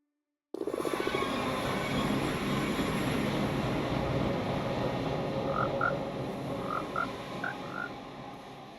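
Frogs in Minecraft near a nether portal give several soft, short croaks, scattered in pairs over a loud steady rumbling ambient drone that starts abruptly after silence.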